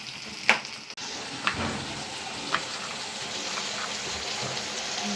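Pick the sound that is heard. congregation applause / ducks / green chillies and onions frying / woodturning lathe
green chillies and onions frying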